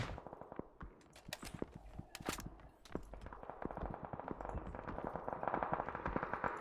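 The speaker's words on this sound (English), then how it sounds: "As you can hear, gunshots just raining left, right, and center." Gunfire in a PUBG duo finals match at Yasnaya Polyana, with dense, irregular bursts of sharp shots and rattling automatic fire crackling near and far throughout.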